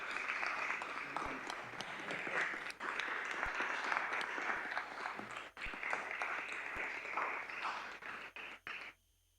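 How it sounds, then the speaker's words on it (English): Sustained audience applause at a Pontifical Academy of Sciences plenary meeting, marking a member's 80th birthday; dense, steady clapping fills the room for about nine seconds before stopping abruptly. "I ask you for a round of applause."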